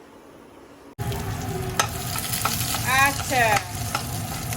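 Spices for a phoron tempering hit hot oil with a sudden loud sizzle, steady and close, with a few spoon scrapes and a brief spoken word over it.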